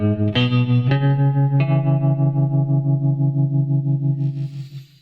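An electric guitar plays three sustained chords with a wavering, pulsing tremolo and a wash of reverb, ringing out and fading at the end.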